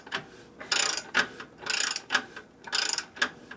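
A ratchet wrench clicks in rhythmic bursts while tightening the rear axle of a 2011 Harley-Davidson Road Glide, close and fairly loud, in about four back-and-forth pulls with brief pauses.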